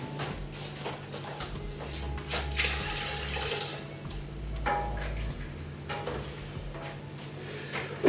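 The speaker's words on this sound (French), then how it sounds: "On va couvrir d'eau tout de suite pour éviter que ça attache" Water running steadily from a tap into a pot of beans for a duck confit cassoulet, a continuous close pouring rush with slight splashing throughout.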